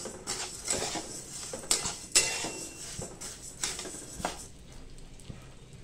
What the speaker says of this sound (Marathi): थोडे थोडे करून आपल्याला धणे भाजायचे